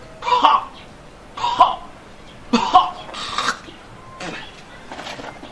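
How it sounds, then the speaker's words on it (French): A series of short, sharp coughs repeated in bursts, close and fairly loud, with a few softer throaty coughs trailing off at the end. "Lui, pour tousser, il fait..."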